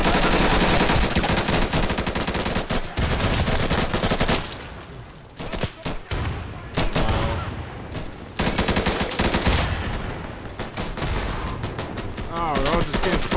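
Heavy automatic gunfire in Insurgency, loud bursts of rapid shots with short pauses between volleys, close and sustained throughout.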